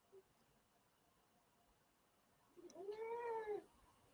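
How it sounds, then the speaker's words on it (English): A cat gives one drawn-out, rising-and-falling meow, faint and somewhat distant, over a quiet background hiss. "Is that your cat?"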